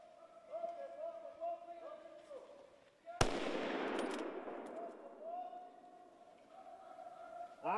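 Rifle shots at wild boars during a driven hunt: one sharp, loud crack near the middle rings out and decays slowly, with voices speaking before and after it.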